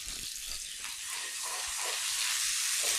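Asian pork meatballs sizzle in a pan, a steady hiss of frying that builds slightly in loudness, with faint clinks from the pan and no talking.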